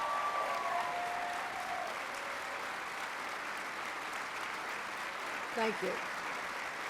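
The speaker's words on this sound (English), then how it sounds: "Let's give them a round of applause" Sustained applause from an audience at a state government address, broad and steady throughout, with a voice briefly speaking over it near the end.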